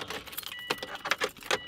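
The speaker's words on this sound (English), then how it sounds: "Keys in the ignition." Car keys jangle and click as they are fitted into the ignition, a close, quiet metallic rattle with several sharp taps and scrapes over a short moment.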